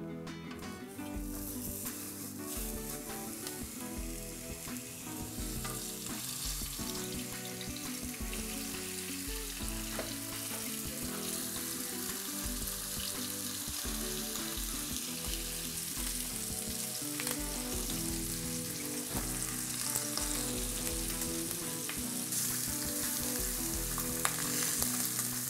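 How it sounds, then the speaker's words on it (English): Beef short ribs sear in hot oil in a pot, giving a steady, crackling sizzle that stays loud and continuous throughout, close up, with no voices. "the oil gets hot, we're gonna be placing in our short ribs"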